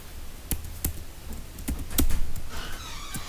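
Keystrokes on a computer keyboard during an online search tutorial, a handful of separate taps with uneven gaps, then a short quicker run at the end, close and fairly quiet.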